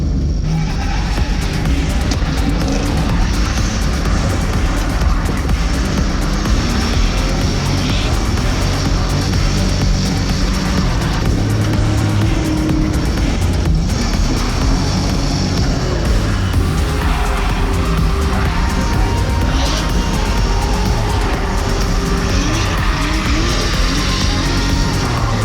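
Turbocharged Holden VS Commodore drift car driving at a drift event after hitting a wall, its loud engine droning steadily and close throughout, with tire noise layered in and no talking.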